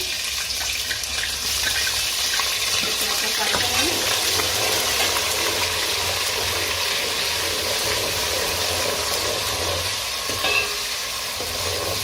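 Continuous loud sizzling of ginger-garlic paste frying in a hot pan, with occasional stirring scrapes and a faint voice in the background.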